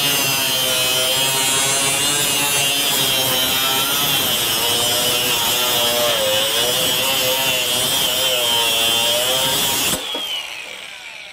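A FLEX 24V brushless cordless angle grinder (FX3171A) forcefully cutting through 1/4-inch steel flat bar, giving a loud, close, continuous high-pitched grinding whine with wavering tone under load, stopping abruptly near the end.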